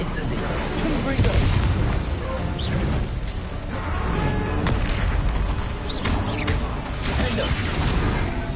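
Confringo blasting spells explode in the video game Hogwarts Legacy amid a magic duel, with repeated booming blasts and crackling impacts rolling over a dense, noisy combat background.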